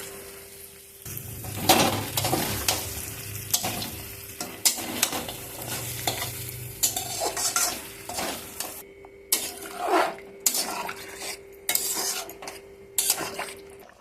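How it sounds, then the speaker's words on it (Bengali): Goat mutton and potato pieces sizzle in a hot wok while a spatula stirs them in repeated scraping strokes and knocks against the pan, up close and without talking. "এখন আলুটা সহকারে আর একটু ভেজে তারপর জলটা দিয়ে দেব।"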